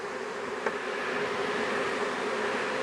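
Honey bees buzzing at an opened hive, a steady close drone of many wings with a brief tap near the start.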